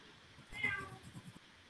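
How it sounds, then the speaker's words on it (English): A pet cat meows once, a short, fairly close call with a faint wavering tail, heard in a quiet room with no talk. "I can hear a cat as well"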